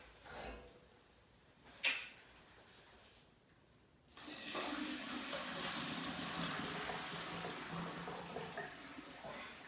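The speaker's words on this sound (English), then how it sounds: "we are going to drain our boiled vegetables" Boiled vegetables being drained, with a couple of clunks at first and then a steady rush of pouring water that runs on continuously, close by.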